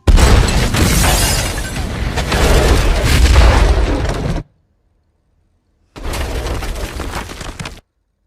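Missile strike blowing apart a house in the war film Eye in the Sky, a loud close booming explosion with crumbling rumble for about four seconds, a moment of silence, then another heavy blast burst that cuts off abruptly.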